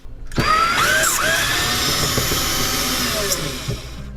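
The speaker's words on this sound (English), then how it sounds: "Well, looks like I have a lot of screws to take out." A power drill spins out screws while an air conditioner air handler is taken apart, a loud continuous whine with pitch shifts lasting several seconds, close up and with no talk.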